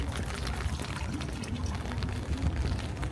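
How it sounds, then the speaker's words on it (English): Intense water rushes in Eindhoven as a loud, steady hiss and roar that runs unbroken, with no voices over it. "That water sounded very intense."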